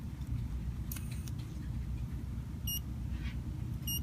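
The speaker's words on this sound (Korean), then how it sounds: "가스 센서가 그 가스를 인식하여 LED가 전멸되고 부저에서 소리가 출력되는 것을 확인하실 수 있습니다." A Raspberry Pi gas leak alarm buzzer goes off after lighter gas reaches its sensor, giving two short, high electronic beeps that stand out over a low background hum.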